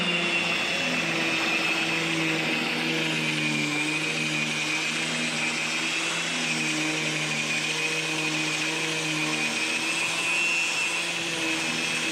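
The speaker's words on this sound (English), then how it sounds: "So time to get to sanding." Steady, continuous whine of a power sander running without pause on the topsides of an Alberg 30 sailboat hull, a droning motor hum with a high-pitched tone riding on top, close and loud.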